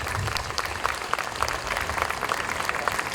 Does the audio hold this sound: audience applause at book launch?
yes